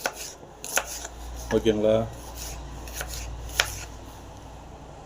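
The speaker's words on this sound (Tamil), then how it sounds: "அதே போல் நம்ம எல்லாத்தையும் இங்கே வந்து கட் பண்ணிடலாங்க." A knife cuts water apple pieces on a board, giving a few crisp taps and a short burst of rapid chopping close by, with a brief spoken word at the start.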